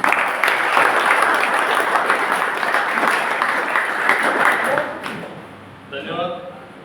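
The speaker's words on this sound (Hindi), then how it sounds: "एक बार जोर से ताली बजाएं भाई।" Audience at a skill convocation ceremony applauding loudly in a sustained burst of dense clapping, fading out toward the end as a few scattered claps remain.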